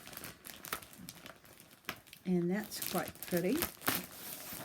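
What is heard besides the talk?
crackling, crinkling noise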